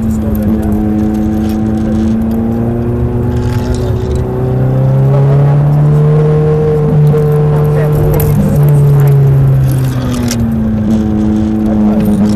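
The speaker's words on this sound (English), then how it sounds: "the downshift to slow that down." A Ferrari F430 engine revs and drops through a downshift on a test drive, a steady loud droning note that rises and falls with clear harmonic sweeps, heard from inside the car throughout.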